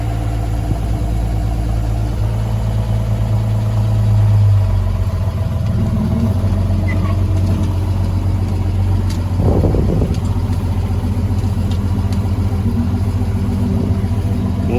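A Clas Ohlson S160 engine chugging in a steady low drone as the vehicle pulls away, with a brief swell in revs partway through and no talking.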